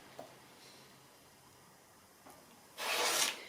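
A rotary cutter slices through quilting fabric squares for a 10-inch-square quilt, giving a short, close scraping rasp near the end after a quiet stretch with faint small handling taps.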